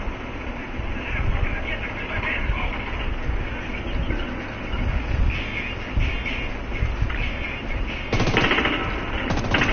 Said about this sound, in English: I'll put my favorite machine gun up.